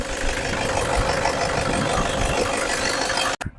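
A Toyota Innova engine with a newly replaced timing chain runs steadily at idle, a continuous close rumble with a faint knocking texture, cutting off abruptly near the end.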